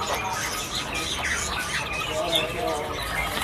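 Oriental magpie-robins in a bird shop kiosk, giving faint, scattered chirps and squawky calls amid shop background noise and nearby talk.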